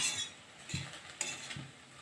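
Prawns frying in a pan and being stirred, with a steady sizzle and a few scraping, clinking stirs of a utensil against the metal, and no one talking.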